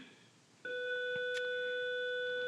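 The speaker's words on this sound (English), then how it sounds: "there goes the school bell" A school bell starts after a quiet moment and rings as a sustained steady electronic tone, continuing unbroken to the end with a faint tap or two.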